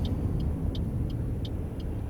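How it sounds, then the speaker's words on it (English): A bus approaches through rush-hour traffic on Princess Street, with a steady low traffic rumble and a series of short, high, evenly spaced beeps repeating over it. "I've got a bus coming in."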